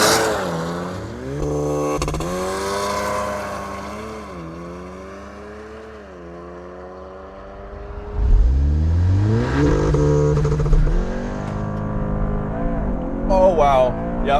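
A modified VW Alltrack built to run 10-second quarter miles accelerates hard, its engine note climbing through rising sweeps with a gear change and a louder surge partway through, heard from inside the car.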